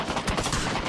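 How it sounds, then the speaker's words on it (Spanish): Rapid machine-gun fire in the video game PUBG on the Erangel map, a dense, loud burst of overlapping shots. "Le metí mano, espérate, con la ametralladora."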